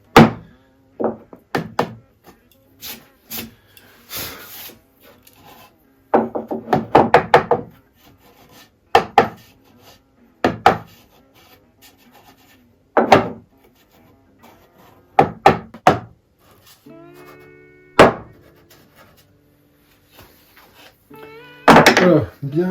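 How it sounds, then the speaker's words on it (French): A small hammer taps on wood while a workbench is built, delivering scattered sharp knocks in irregular bursts, some quick runs of blows and others single, close by in a quiet workshop with brief rubbing and handling sounds. "Ah, petit marteau"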